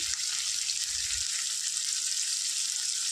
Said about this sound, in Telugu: చికెన్ చూడండి చక్కగా ఫ్రై అయింది ఇట్లా ఆయిల్లో మంచిగా